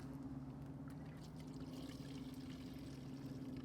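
Water pours steadily into a sample bottle, rinsing it during lake composite sample processing, a continuous close trickle with a low steady hum underneath.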